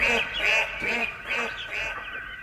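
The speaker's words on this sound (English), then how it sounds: "He stopped when he noticed the ducklings." Ducks quack on a pond, several short nasal calls in a loose rhythm, moderately close and soft.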